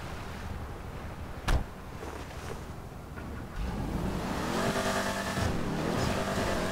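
A car engine in Grand Theft Auto V on PC, the vehicle spawned in water, a low steady engine rumble swelling louder midway with a brief knock, mixed with washy water and wind noise.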